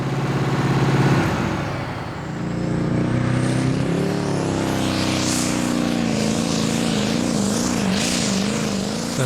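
Tractor pulling at the 2008 Danish Championship in Hjallerup: the engine of the tractor Herbie, which has had steering problems, roars loudly and continuously during a competition run, its pitch wavering and climbing as it labours, with a brief dip early on.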